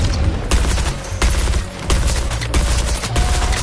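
Weapon fire in the video game Suicide Squad, a loud continuous barrage of rapid shots with heavy low booms and a few sharper bursts throughout.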